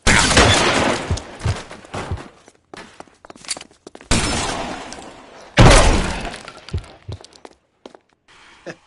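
Gunfire bursts in a shootout in the video game L.A. Noire, with loud rapid volleys, breaking glass and shattering debris, separated by quieter gaps with scattered footsteps and clatter.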